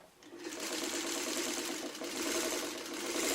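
A sewing machine runs continuously and close up, its fast steady needle stitching joining small quilt blocks.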